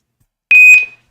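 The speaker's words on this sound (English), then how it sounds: "I don't know if you heard that little beep." A short electronic beep from a computer, a single clean tone lasting about half a second, loud and alone against silence.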